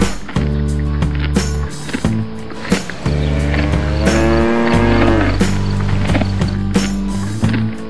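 A cow lowing in long, drawn-out moos, loud and close, with backing music underneath.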